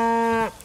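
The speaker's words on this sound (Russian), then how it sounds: "Гоним коров к ним." A single cow in the video game Far Cry 5 gives a short, clear low moo that cuts off abruptly, close and alone.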